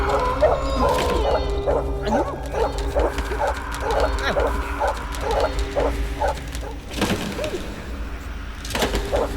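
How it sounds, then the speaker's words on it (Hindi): At night, a dog barks in a steady repeated rhythm at moderate distance, under a constant background hum with occasional louder noises. "कौन है कुत्ता भौंक रहा है किधर से?"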